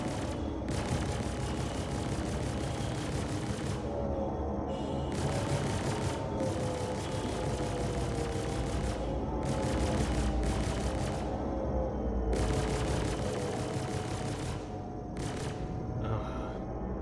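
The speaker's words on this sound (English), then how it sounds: "I don't understand the secondary explosions." Video game combat with a sustained barrage of gunfire and rumbling secondary explosions, bursts of crackling shots recurring over a dense, continuous roar throughout.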